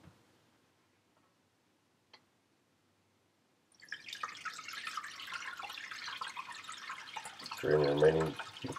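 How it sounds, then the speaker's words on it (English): Chicken stock is double strained through a strainer. Near-silence with a few faint ticks gives way to a steady splashing, trickling pour of liquid, with a heavier, deeper gush just before the end. "Drain the remaining beautiful liquid."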